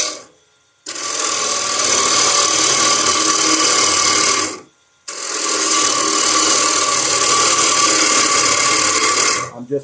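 A gouge cuts into spinning wood on a lathe in two long, loud, steady rasping passes of about four seconds each, separated by a brief pause, close up and without speech.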